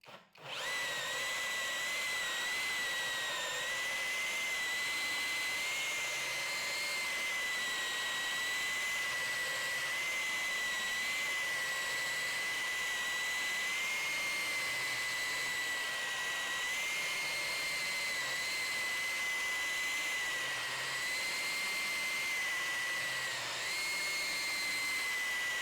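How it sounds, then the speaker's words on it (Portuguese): A GENAI 21V cordless rotary hammer drills steadily for nearly the whole stretch, its high motor whine loud, close and continuous, with only slight shifts in pitch as the bit works. "eu vou ver se eu consigo me guiar por ela"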